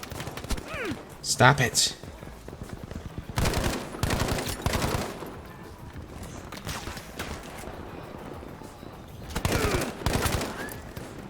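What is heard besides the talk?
Breda PG 1935 burst gunfire in video game Battlefield 5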